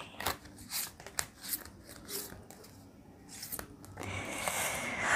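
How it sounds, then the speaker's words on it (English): Tarot cards shuffled by hand in a few quick riffling and rustling bursts, close and fairly soft, followed by a steadier papery hiss toward the end, with no talk. "let me shuffle this one for you, dear Aquarians"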